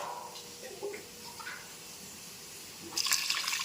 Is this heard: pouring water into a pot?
yes